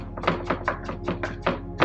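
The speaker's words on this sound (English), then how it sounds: "I'm just chopping shit out of it real finely." A knife finely julienning ginger on a cutting board makes quick, close, evenly spaced taps, about eight sharp chops in under two seconds.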